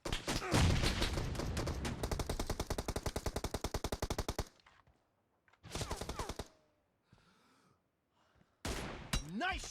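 Rifle fire in an online shooter game using an M24 sniper rifle and an M416 assault rifle: a long rapid burst of loud shots, then a pause and a second short burst, with brief quiet gaps between.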